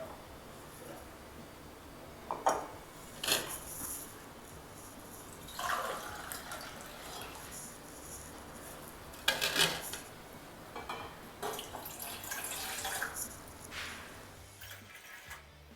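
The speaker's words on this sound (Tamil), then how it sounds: "இதில் வந்து நான் ஒரு 3 கிளாஸ் தண்ணி அளந்து ஊற்றிக்க போகிறேன்." About three glasses of water splash and pour into a metal pot in a few short bursts, with clinks of cookware in between, fairly quiet and close.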